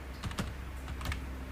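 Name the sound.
typing Java code on a computer keyboard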